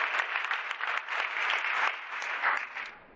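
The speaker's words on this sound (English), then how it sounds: "Give Shelley and Nathan and the leadership of INSEP a big round of applause" A conference audience gives a big round of applause, dense and sustained clapping from a large crowd that stays fairly even and loud before it starts to fade at the very end.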